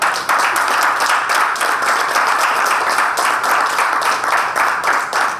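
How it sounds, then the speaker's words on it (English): A conference audience claps steadily and loudly for several seconds, a dense continuous patter of many hands with no talking. "So I want everyone to clap right now for at least 5 seconds."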